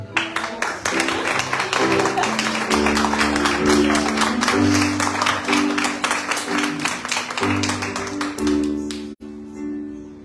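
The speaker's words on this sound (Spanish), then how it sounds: "Vamos a darle un aplauso al Rey." A church congregation at Centro de Alabanza Oasis in Ciudad Bolívar claps loudly and steadily in rhythm with ongoing worship music, a dense sustained applause that fades out near the end.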